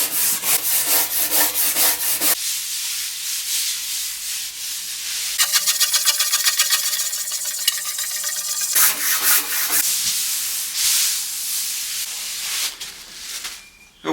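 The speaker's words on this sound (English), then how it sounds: "So I'm going to try and get as much of this wax out as I can. And just, not too hard, just give it a little brush." Brushing old wax out of the grain of a wooden table, a steady close scrubbing hiss in bursts, with a quieter pause midway before the brushing resumes.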